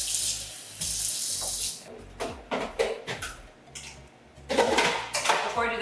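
A kitchen tap runs water into a container, gushing in bursts with gaps, mixed with clinks of dishes and utensils nearby.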